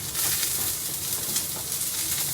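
Onion sizzles in hot oil in a pan for pork adobo, a bright, steady hiss heard close and alone, with faint crackles running through it.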